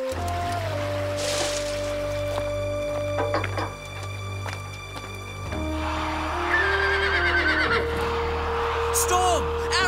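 A horse whinnies among busy background sounds in a Silver Brumby episode, with steady tonal hums and a sharp rising squeal later on; a voice is briefly heard.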